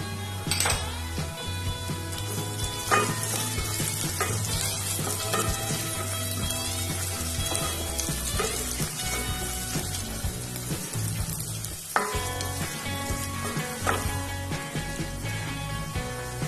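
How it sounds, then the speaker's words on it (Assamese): Chopped onions frying in a pan for restaurant-style chilli paneer, a steady close sizzle running throughout with occasional clinks and scrapes of stirring. "মই এতিয়া এইখিনি পিঁয়াজ ভাজি ল'ম।"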